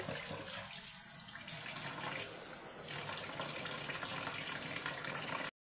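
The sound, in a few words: washing pomfret fish under running tap water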